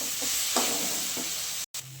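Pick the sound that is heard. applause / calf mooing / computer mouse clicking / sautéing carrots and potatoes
sautéing carrots and potatoes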